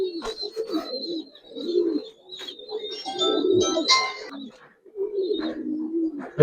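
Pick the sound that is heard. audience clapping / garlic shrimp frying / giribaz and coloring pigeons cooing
giribaz and coloring pigeons cooing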